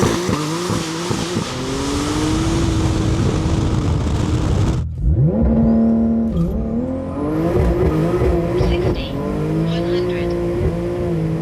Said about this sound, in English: Now it's time for Chris's ES 1300 cab. Can we get into the 8s?